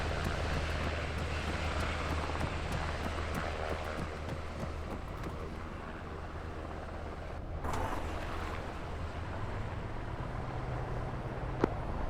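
Black Hawk helicopter turbine spooling back up for lift-off, a steady loud engine roar with continuous rotor and wind rumble throughout, a brief dip then swelling again.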